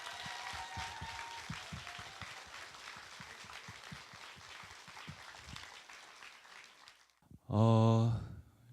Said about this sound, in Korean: 여러분 큰 박수로 맞아주십시오